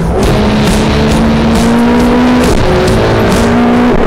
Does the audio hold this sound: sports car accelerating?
yes